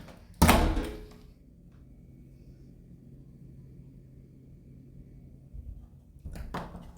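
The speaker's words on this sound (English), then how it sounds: "These doors are magnetic." A magnetic hotel door at the Hilton Memphis gives a loud thunk near the start as it opens, then a quiet stretch, and a second heavy thud at the end as it shuts.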